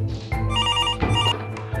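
A telephone rings indoors in short, repeated trilling bursts, loud and close, with brief gaps between rings.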